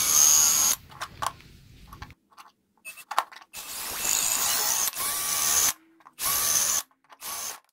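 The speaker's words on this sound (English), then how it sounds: "we're going to drill it out." Bursts of an electric drill whining into a solid brass sign, starting and stopping several times with short pauses between, close and loud.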